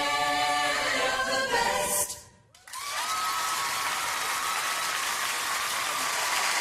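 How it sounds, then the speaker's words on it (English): A choir's singing cuts off and a loud, dense wave of audience applause follows and holds steady to the end. "They got them clapping."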